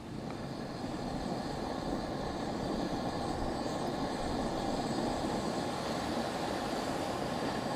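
A Coleman Cascade 18 camping stove burner turned up high gives a loud, steady roaring hiss that holds unbroken from start to finish, with no talking.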